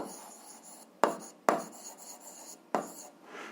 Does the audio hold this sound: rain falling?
no